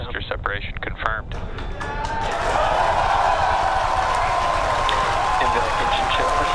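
Cheering crowd reacting to a SpaceX Falcon Heavy booster separation during a launch carrying Space Force satellites: broadband roar of many voices swells after a couple of seconds of scattered talk and stays loud and sustained to the end.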